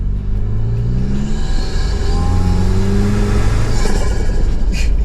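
A steady, loud engine rumble from a 2025 Toyota 4Runner with a snorkel, rising and falling tones as it revs, with a faint airy turbo flutter hiss near the end.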